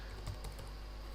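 Keys on a computer keyboard tap in a few quick, faint clicks as dimensions are typed into a 3D modelling program, very brief and close with no speech.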